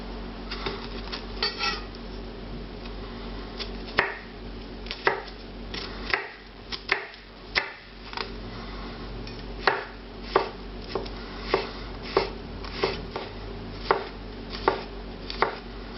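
Garlic cloves sliced thin with a knife on a cutting board while preparing a classic French onion soup in a professional kitchen; a steady series of crisp, close knife taps in an even rhythm, with no talking.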